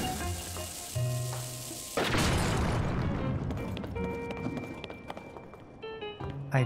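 A rock blown apart in Zelda: Tears of the Kingdom: a sudden broad burst of blast noise lands, then a long crackling, rumbling debris tail rolls on under light game music.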